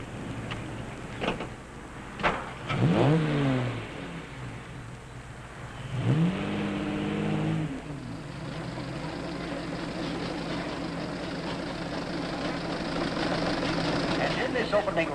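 Antique cars, a Stanley Steamer and a Model T, starting a race: rumbling engines that rise and whine twice, then settle into a steady drone, with brief voices near the start.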